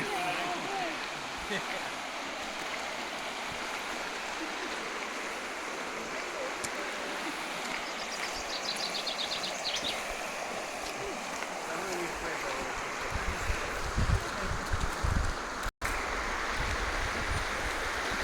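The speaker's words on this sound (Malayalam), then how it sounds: "അടുത്തുള്ള അരുവിയാണ് വളരെ ഭംഗിയുള്ള വെള്ളം സ്പടിക്കം പോലെ" A crystal-clear stream flows near the Harry Potter bridge, giving a steady, even broadband rush of water with a faint low rumble underneath and a brief dropout near the end.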